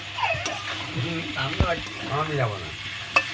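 Chunks of elephant foot yam and potato fry in spiced oil, giving a continuous sizzle with occasional sharp clicks of a stirring utensil, while someone talks over the cooking.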